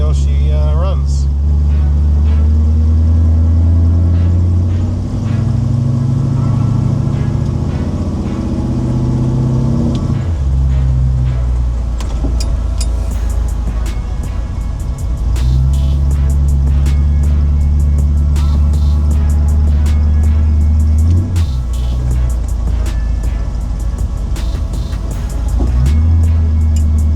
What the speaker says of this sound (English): I'm just gonna go around the parking lot here and see how she runs.